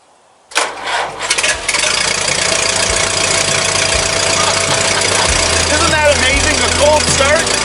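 A Massey Harris 22 tractor engine cranks and catches on a cold start, with a few rough bursts, then settles into a loud, steady, chugging idle.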